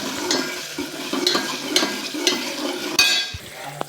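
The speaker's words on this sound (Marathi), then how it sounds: "नंतर त्यात आपण टोमॅटो टाकला आणि नंतर त्याला हलवले।" Tomato fries with crushed garlic and curry leaves over a medium flame while a spoon stirs it, making soft scraping strokes at a steady pace over a gentle sizzle.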